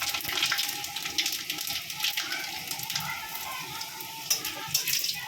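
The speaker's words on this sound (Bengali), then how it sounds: "তেলটা গরম হয়ে গেছে, এখন তেলে তেজপাতা, শুকনো লঙ্কা ও পাঁচফোড়ন সম্বার দিয়ে দিল" Bay leaf, dried red chilli and panch phoron crackle and sizzle in hot oil in a home kitchen, a steady bright hiss with small popping bursts throughout, close and fairly loud.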